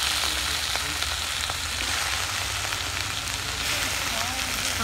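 Tomatoes, green chillies, dried red chillies and whole spices fry in a pan with a steady close sizzle and faint stirring scrapes.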